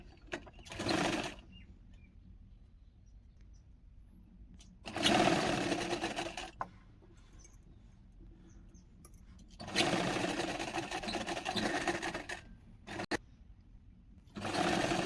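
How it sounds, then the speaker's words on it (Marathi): A sewing machine stitches a prince-cut boat-neck blouse neckline in several short, loud bursts of rapid whirring separated by quiet pauses. "आता आपण बॅग गळ्याला टीप मारून घेऊया"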